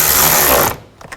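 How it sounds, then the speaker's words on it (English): A worm clamp being tightened on the air intake of a 2000-2006 Chevy Tahoe, with a loud, close whirring burst lasting under a second that cuts off abruptly and is followed by a couple of faint clicks. "And just tighten the worm clamp down."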